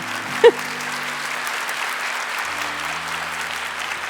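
An audience at a devotional gathering claps steadily, a dense even patter of many hands that carries on for several seconds at a moderate level, with no one speaking over it.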